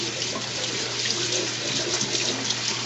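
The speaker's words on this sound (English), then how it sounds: "Bring it over to the sink and just give it a good rinse." Tap water runs steadily into a kitchen sink as a cup of medium-grain rice is rinsed, a continuous close splashing hiss with no talk.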